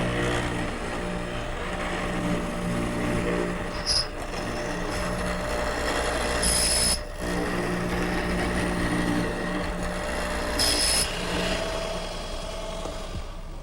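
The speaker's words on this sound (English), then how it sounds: "I'm going to use my hollow chisel mortiser." A hollow chisel mortiser cutting a mortise in a wooden high chair stile, its motor droning steadily while a few brief, harsher surges mark the chisel plunging into the wood.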